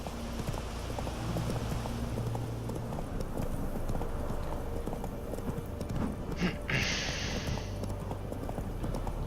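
Steady clip-clop of horse hooves trotting at a regular rhythm in the video game The Witcher 3, with a brief hissing burst partway through and a low background tone.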